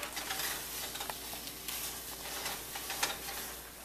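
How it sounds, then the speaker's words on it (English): Thickening milk for kalakand is stirred continuously in a pan, a steady soft scraping and bubbling sizzle with repeated stirring strokes, fairly quiet and close. "now we do need to stir this continuously, because it will start otherwise sitting in the bottom and it will lose the color."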